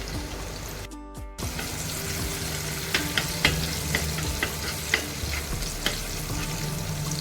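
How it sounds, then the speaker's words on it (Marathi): Garlic frying in oil in a pot while a Bombil (Bombay duck) curry is prepared, giving a steady close sizzle with scattered small crackles and pops throughout, after a brief silent break near the start. "आता हे पा टोपात तेल टाकलेलं आहे त्यानंतर आपल्याला लसूण टाकायचं"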